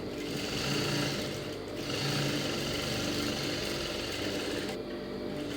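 A sewing machine stitches the V piece of a lined blouse in a steady, close, rapid whir with short breaks in the rhythm. No voices are heard over it.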